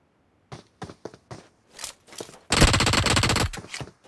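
Gunfire in the BGMI mobile battle royale game: a few scattered single shots and short bursts, then a loud sustained automatic burst lasting about a second, followed by a couple of trailing shots.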